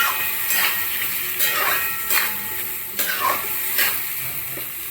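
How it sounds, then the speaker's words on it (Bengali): Boiled peas and potatoes frying in a pan for ghugni, stirred with repeated scraping spoon strokes over a continuous sizzle, close and fairly loud. "ভালো করে নাড়িয়ে চাড়িয়ে নিই।"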